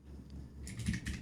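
Brief burst of keystrokes on a computer keyboard, a few quick soft clicks in close succession, quiet and near, with no voices.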